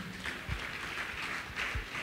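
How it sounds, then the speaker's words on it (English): A church revival congregation claps hands for Jesus, a faint, continuous patter of many hands with a few soft low thumps beneath it. "clap your hand for Jesus"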